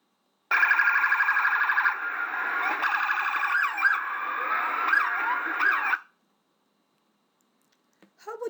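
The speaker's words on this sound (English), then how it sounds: "A siren transfers enough sound energy to be heard from a distance." An emergency vehicle siren wails loud and close for about five and a half seconds, its pitch sweeping in repeated cycles, then cuts off abruptly, leaving near silence and a few faint sounds at the end.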